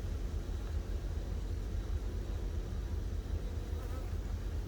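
Honeybees buzzing during an inspection of a long horizontal hive, a continuous low droning hum that stays steady and fairly soft, with faint background noise and no clear speech.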